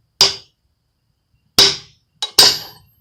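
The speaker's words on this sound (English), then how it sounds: "try to go crossways instead of tapping it in all the way around" A mini maul strikes a metal bearing on a Ford E350 Dana 60 full-floating rear axle, four sharp ringing taps, the last two close together, with silence between blows.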